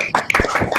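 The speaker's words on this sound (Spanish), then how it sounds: "un aplauso." Applause from the audience at the close of a master's thesis defense: a short burst of dense clapping, fairly close and loud, with no talk over it.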